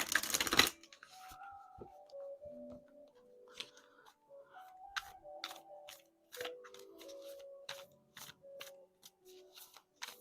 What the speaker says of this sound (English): Let's give it another shuffle here.